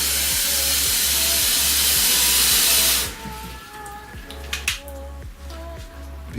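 Water being poured into a pan of lamb curry, a loud rushing hiss that fills the first three seconds, then drops to a quieter simmering crackle with a few faint clinks over a steady low hum.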